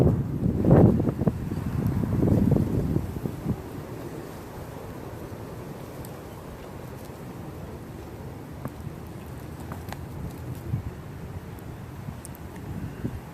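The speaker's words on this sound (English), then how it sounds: "Just a lot of strong wind." Strong wind blowing outdoors, gusting loudly against the microphone in the first few seconds and then settling into a steady, softer rush with no voice.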